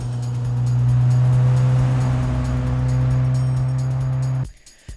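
The grandson's Covet is driven with a steady, droning engine note that fades slightly before cutting off abruptly near the end.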